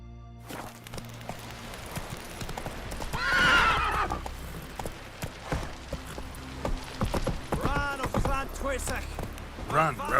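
In The Witcher 3 game, the horse Roach gallops with a rhythmic clip-clop of hooves and gives a loud whinny partway through. A voice speaks over the hoofbeats.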